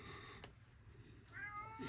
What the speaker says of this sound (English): Sorry if you hear my kitty.